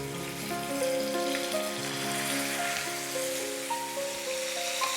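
Chicken sizzles steadily in hot olive oil on a grill pan, a continuous crackling hiss that sits under background music with sustained tones.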